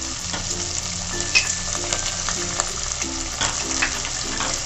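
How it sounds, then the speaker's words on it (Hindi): Onions, ginger, garlic and cumin fry in a kadhai with a steady, close sizzle, broken now and then by faint scrapes and stirring knocks. "सारी चीजों को हमें तब तक भून लेना है जब तक कि हमारे प्याज जो है वो गोल्डन ब्राउन ना हो जाए।"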